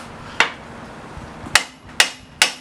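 Four sharp metallic hammer strikes on the ball joint of a 2000-06 Ford Taurus ring out, one alone and then three in quicker succession, each with a brief clanging decay.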